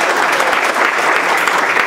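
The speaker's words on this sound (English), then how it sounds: "Please give a round of applause." Steady, dense applause from a crowd at a UK Games Expo panel, loud and continuous with no voices over it.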